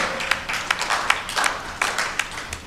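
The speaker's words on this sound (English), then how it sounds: "Comrades, a round of applause for Ms. Ruth Nyambura." An audience at an East African Community agricultural policy forum applauds a speaker, with scattered, uneven hand claps forming a moderate, sustained patter, a few sharper claps standing out, and no voices over it.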